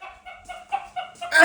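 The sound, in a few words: pet rooster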